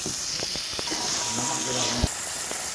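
Duck meat sautéing in a pan, a steady close sizzle and hiss running throughout, with a few soft clinks of a utensil and a voice speaking over it.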